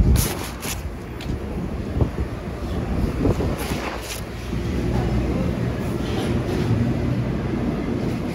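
A train pulling into a station, a rumbling, rattling rush of rail cars with wind buffeting the microphone, steady and fairly loud throughout.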